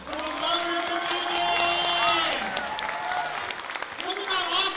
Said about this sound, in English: Let's give another round of applause for the lover of the baby!